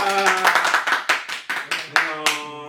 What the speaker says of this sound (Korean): 박수로 끝낼까요?